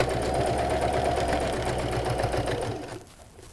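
A sewing machine stitches a bag seam with a steady, close motor whir and rapid needle chatter that runs without a break, then cuts off about half a second before the end.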